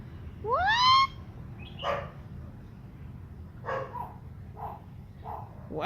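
A Thai bird mimics a dog's bark, giving a rising yelping call followed by several shorter bark-like notes spaced irregularly, fairly close and alone over faint background noise.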